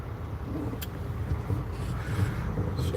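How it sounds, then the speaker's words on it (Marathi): Busy road traffic near a bridge makes a low, continuous rumble of passing cars and engines. It sounds moderately distant and fairly quiet, with no voices. "किती ट्रॅफिक आहे"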